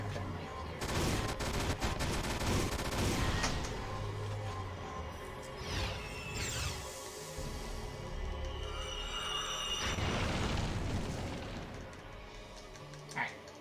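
Gunfire in the video game Valkyria Chronicles, bursts of rapid shots and booming impacts in clusters, loud and close, with a sharper crack near the end.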